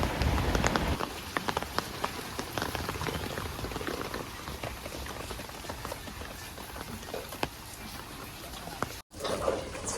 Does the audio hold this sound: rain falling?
yes